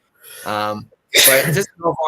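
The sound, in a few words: sneeze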